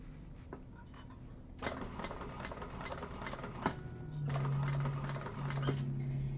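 A sewing machine stitches a handbag seam in top stitch mode with its thread tension set too tight, running in short bursts of rapid needle clatter punctuated by sharp clicks and a louder steady whir near the end.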